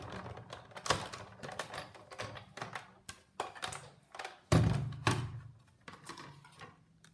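A manual die-cutting machine cranks cardstock, with a stitched-edge framelit die, through its cutting pads. Irregular clicks and knocks build to one heavier thump midway, all fairly quiet and close, with no talking.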